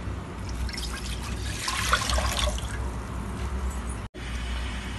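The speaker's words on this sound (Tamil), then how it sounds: "அதில் 2 லிட்டர் தண்ணி ஊற்றிடலாம்" About 2 litres of water pours steadily into a cooking pot, a continuous rushing trickle with a brief cut near the end, no voices.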